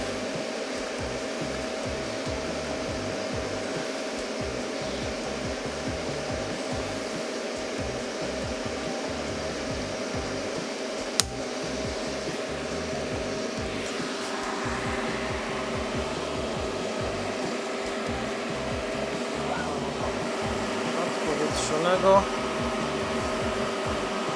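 A fuel system cleaning machine hooked up to a car's fuel system hums steadily alongside the idling engine, a continuous mechanical whir with a brief sharp click partway through.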